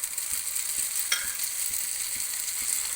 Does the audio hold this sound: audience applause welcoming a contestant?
no